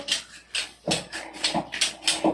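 A dog whimpers in a series of short, high, whiny cries, about seven of them in quick irregular succession, close by and fairly loud with no talking over them.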